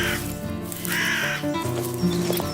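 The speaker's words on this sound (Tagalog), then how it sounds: "Ang mga walang hiyang ibon na alaga ng mga aswang." Harsh cawing of crows, birds kept by an aswang, several loud raspy calls close by, overlapping with a busy background bed.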